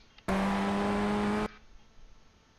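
Ray FF1600 race car in iRacing, a single loud, close engine burst at high revs held for about a second, then cutting off abruptly into quiet, with no talking.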